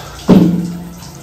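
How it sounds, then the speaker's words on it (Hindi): Water starts running with a sudden close gush for a pet cat's bath in a home bathroom, loud at first and then settling into a steady, slowly fading flow with no voices over it. "तो नवाब साहब का नहाई नहाई स्नान गृह स्टार्ट हो चुका है।"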